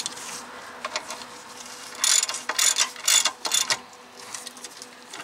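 A wrench ratchets on 17 mm brake caliper bolts on a 1998 Nissan Maxima, giving bursts of quick, close clicking that grow louder midway, alone with no talk.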